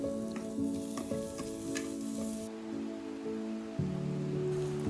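Chopped onion frying in oil for Sri Lankan dhal rice, a steady close sizzle with soft scraping as it is stirred, growing slightly louder near the end; no talking.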